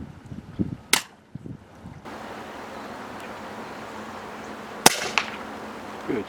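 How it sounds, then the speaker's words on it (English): Airgun shots fired at birds in a hay field, two sharp close cracks several seconds apart with a short follow-up snap, over faint outdoor background noise. "I loaded up and we started shooting."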